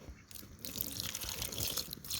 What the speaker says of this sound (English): I'm going to pour it inside of these compost bins right here